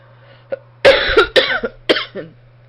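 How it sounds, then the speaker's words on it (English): Several sharp, close coughs in a quick burst, harsh and raspy, with a faint steady hum in the background. "I just came in from the cold, so I can't seem to kick this cough"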